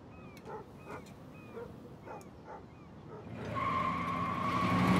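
Dog in the video game Life is Strange giving about five evenly spaced yipping barks at moderate distance, followed by a rising engine-like hum with a sustained tone.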